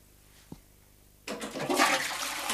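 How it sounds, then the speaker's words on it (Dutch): Household toilet flushing after a short click of the handle, a sudden loud rush of water that surges and gurgles steadily close by, with no talking. "Je hoeft niet door te trekken."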